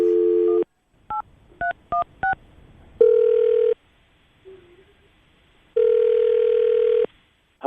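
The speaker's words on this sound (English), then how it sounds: "we're going to call him right now, see if we can get him on the phone" A telephone places a call: a steady dial tone, then a quick run of touch-tone keypad beeps, followed by two long ringback tones separated by a pause, loud and close with no voices.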